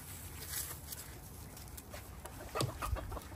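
Chickens cluck softly and intermittently, close by, over a steady background hum with light shuffling.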